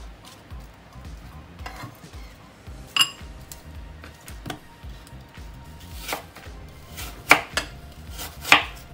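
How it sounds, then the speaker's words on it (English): A knife cuts through an apple around its core on a board, giving a handful of sharp, close chopping knocks spread irregularly over a low kitchen background. "the easy way is basically to just cut down the middle, boom, just like that, and cut around the core if you don't have an apple corer."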